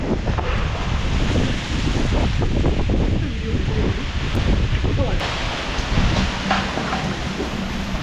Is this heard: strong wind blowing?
yes